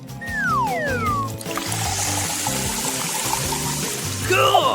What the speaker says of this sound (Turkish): Tatlı kolayı damlalık poşetlerine dökeceğim.